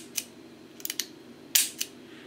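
A Taurus Raging Bull .454 Casull revolver with a 5.5-inch barrel gives a few sharp, close metallic clicks as its releases are worked and the cylinder swings open. The clicks are brief and spaced apart against a quiet background.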